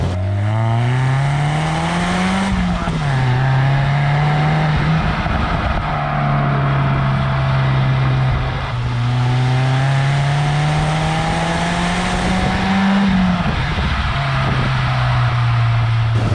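A cheap 500-euro race car with a slightly hoarse engine revs and accelerates past 5000 rpm, loud and close, its engine note climbing in repeated pulls with brief dips at each gear change.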